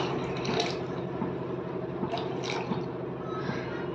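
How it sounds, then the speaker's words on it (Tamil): Water pours steadily into a pot of semiya and rava, a close, continuous splashing and gurgling stream with small drips. "இப்போ இதுக்கு தேவையான தண்ணியும் அது சேர்த்துக்கலாம்"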